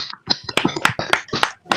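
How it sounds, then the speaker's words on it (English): Scattered claps and taps from a few people in an online class as they applaud a student teacher, uneven and close to the microphone, broken by brief gaps. "let's give applause first for Hariwayuni"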